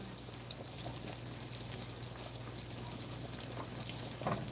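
Food sizzling in olive oil in a pan, a steady soft crackle and bubbling held close throughout, with a brief louder burst near the end.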